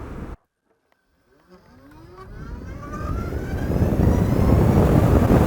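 A Zero SR/F electric motorcycle pulling away at full throttle, a rising whine that sweeps upward in pitch over several seconds while wind roar builds steadily louder after a brief near-silent pause.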